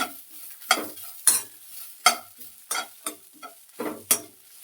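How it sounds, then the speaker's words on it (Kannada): Grated coconut stirred in a hot pan after the stove is turned off, with spatula strokes scraping the pan in a steady rhythm of about nine sharp, close strokes and faint sizzling between them. "ತೆಂಗಿನ ತುರಿ ಹಾಕ್ಕೊಳ್ತೀನಿ ಬಾಂಡಿ ಬಿಸಿಯಲ್ಲೇ ಒಂದು ಎರಡು ಸುತ್ತು ಹುರ್ಕೊಳ್ತೀನಿ"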